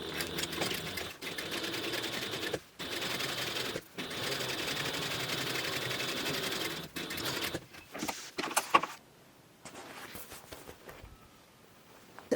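A sewing machine stitches the exterior seams of a fabric book bag along the spine, running in steady bursts separated by brief pauses, then quieter handling sounds toward the end.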